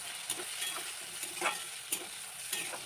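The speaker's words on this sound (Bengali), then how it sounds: "এবার আমি পেঁয়াজ আর টমেটোটা দিয়ে ভেজে নেবো ভালো করে" Onion and tomato frying in oil, a soft, fairly quiet sizzle punctuated by several sharp spatula scrapes and stirs at irregular intervals.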